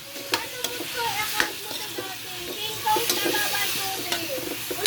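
Chicken adobo with ground pepper sizzles steadily in a frying pan while a utensil stirs and scrapes in quick, irregular strokes, close by and moderately loud.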